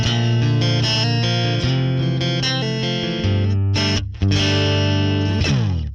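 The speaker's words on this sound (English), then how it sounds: "Scene number 1 is just the classic clean sound." Clean electric guitar with a PRS S2 split neck pickup, played through a Fractal FM3 with a compressor, jazz chorus amp and Princeton cab, ringing sustained chords and notes, loud and close with brief gaps between phrases.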